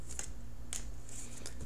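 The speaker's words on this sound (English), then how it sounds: "Okay, so I'm shuffling for this outcome card." Tarot cards shuffled by hand up close, three short crisp riffling bursts with brief pauses between, no voices.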